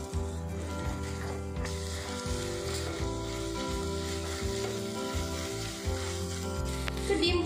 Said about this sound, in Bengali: এবার ডিমটা আমি ঝুরো ঝুরো করে ভেজে নেব।